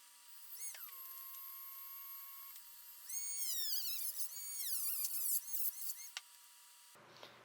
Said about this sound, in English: So I'm going to go ahead and do that with the Dremel.